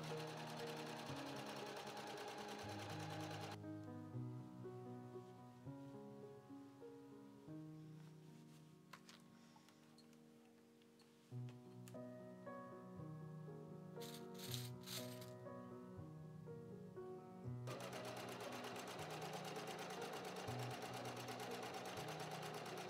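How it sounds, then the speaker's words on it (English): A sewing machine stitches darts and long lining seams for a Victorian dressing gown, a steady whirring run that slows and shifts pace midway before returning at full speed. "I started off by sewing the darts and then all the long seams of the lining"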